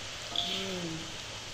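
Boondi batter drips into hot frying oil, a soft, rain-like sizzle that stays faint and brief with a light hiss.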